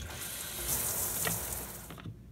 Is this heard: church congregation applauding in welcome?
no